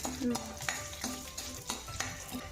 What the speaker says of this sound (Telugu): దోరగా శనగపప్పు వేగాలి